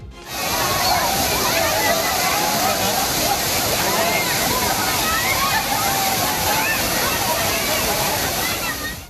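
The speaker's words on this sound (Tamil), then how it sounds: "ஆர்ப்பரித்து கொட்டும் அருவியில் அவர்கள் குளித்து மகிழ்ந்தனர்." Kumbakkarai waterfall, swollen after recent rains, gushes down in a loud, steady roar of crashing water with constant sloshing and splashing that holds at full strength throughout.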